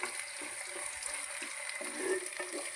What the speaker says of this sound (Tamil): இது எல்லாத்தையுமே நல்ல இந்த எண்ணெயில் பொரிய விட்டுடலாம்